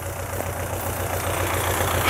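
A tractor raking hay runs at half throttle in sixth gear, giving a steady, droning engine hum with a low humming undertone, heard from close by with no talking.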